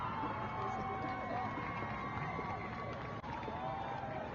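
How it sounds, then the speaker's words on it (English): Spectators at a boys' varsity high school soccer match between Redondo Union and Mira Costa cheer and shout, a steady crowd murmur with occasional whoops, heard at a distance with talk mixed in. "As you see some cheering from the crowd."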